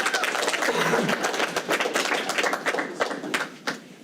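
An audience at a county commissioner meeting claps for several seconds, a dense burst of hand claps that thins out toward the end, with a voice briefly audible underneath.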